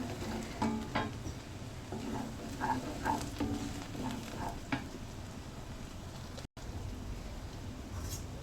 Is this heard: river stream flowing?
no